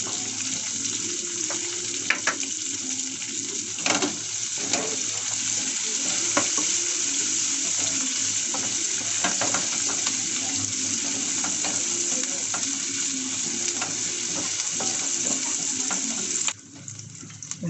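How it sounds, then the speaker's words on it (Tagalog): Ginger and onion sautéing in a hot pan, a steady close sizzle with intermittent spatula scrapes and clinks running throughout, ending abruptly near the finish. "Tagisahin lang natin ang luya."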